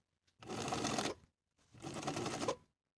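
A sewing machine bastes the strap edges of a fully lined vest in two short steady runs of fast whirring stitching, separated by a brief pause, close and without speech.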